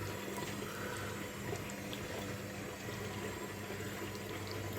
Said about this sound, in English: you top the demi-john up with water